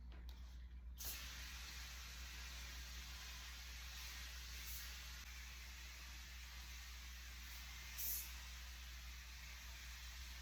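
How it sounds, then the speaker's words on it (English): A low, steady hiss of disinfectant spray runs for about ten seconds over a humming room, with a few brief louder bursts. "So I'm gonna quickly spray it down."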